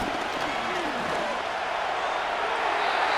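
Stadium crowd noise in the Madden NFL 25 video game, a steady, dense roar of a large crowd filling the whole stretch without break, loud and continuous.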